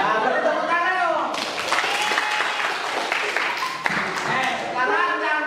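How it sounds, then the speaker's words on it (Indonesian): School class in an Indonesian classroom bursts into applause after a student performance, clapping bursting in after a teacher speaks and continuing steadily with voices over it. "beri tepuk tangan dong"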